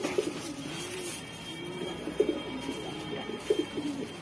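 Saharanpuri and Allahabadi flying pigeons coo in low, rolling phrases that repeat steadily. Several soft clicks or wing taps sound nearby over a murmuring background.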